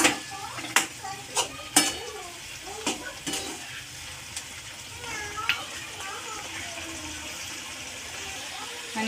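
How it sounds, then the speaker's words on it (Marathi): Masala frying in oil in a pan while cooking sukka chicken, a continuous soft sizzle broken by sharp metallic clinks and scrapes of a spoon stirring against the pan, with faint kitchen sounds in the background. "मसाला छान व्यवस्थित फ्राय करून घ्यायचा आहे तेलामध्ये"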